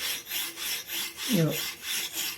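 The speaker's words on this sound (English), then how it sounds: "I sharpen on both strokes." Scissor blade sharpened on a Hapstone sharpener stone, with steady rhythmic rasping strokes back and forth, about eight passes close up, and a brief low squeak partway through; no talking.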